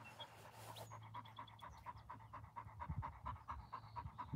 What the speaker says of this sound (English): Now he's finally panting.